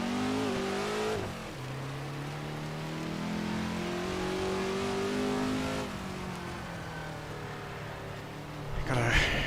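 A Ford GT40 racing car engine in the Assetto Corsa video game, a loud droning roar that drops as the car shifts, then holds a steady high rev before easing off near the end.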